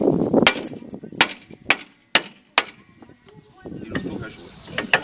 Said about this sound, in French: un bon coup de marteau